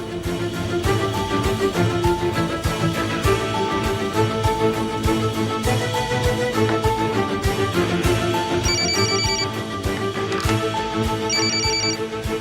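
A telephone rings continuously through a call, a repeating electronic ringtone with bright trilling tones, loud and close, layered over a steady background tone with no speech.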